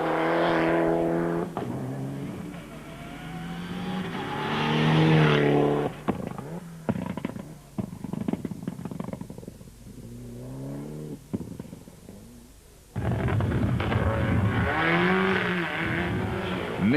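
A team Mitsubishi rally car blasting through a stage, its engine revving and rising in pitch as it passes, then fading, before another loud surge of engine noise returns near the end.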